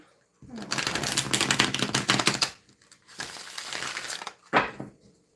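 Rapid riffling of a tarot card deck, two long bursts of dense crackling shuffles followed by a short final snap, close and fairly loud with no talk.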